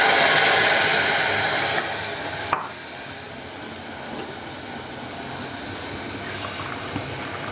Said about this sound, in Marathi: आतमध्ये पाणी घालायचं आहे.